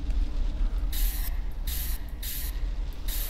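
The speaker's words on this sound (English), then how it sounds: "This is a strong, spray-painty sounding crown." Spray bursts in a haunted childhood toys video game: four strong hissing blasts, steady and evenly spaced, over a low rumbling game background.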